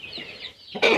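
Hens cluck in short bursts close by at a chicken coop after hatching, with a louder, sharper cluck near the end.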